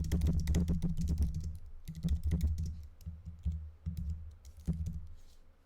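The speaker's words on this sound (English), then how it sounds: "You can hear that, can't you? The keyboard." Fast typing on a computer keyboard close to a desk microphone, a dense run of sharp clicks that breaks into shorter bursts and isolated key presses toward the end, with no talking.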